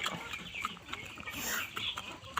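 Native Bisaya chickens cluck and chatter in a farmyard flock, several short clucks over a steady low background, fairly close and quiet, with no talking.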